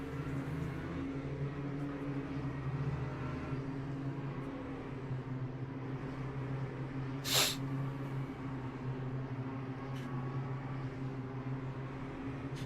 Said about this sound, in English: Oh no, I need to sneeze.